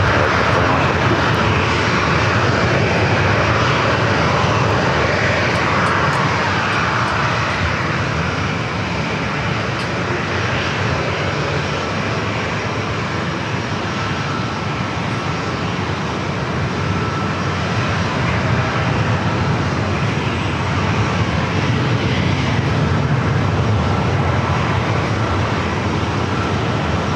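An American Airlines Boeing 737-800 takes off from runway 27 at San Diego airport, a loud, sustained broadband jet roar that holds steady throughout from a middle distance, without any talk over it.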